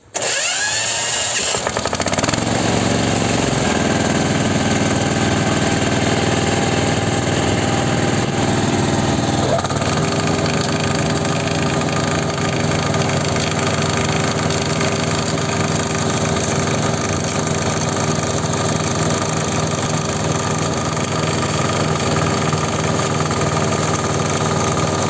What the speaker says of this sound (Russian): Послушаем, как работает мотор.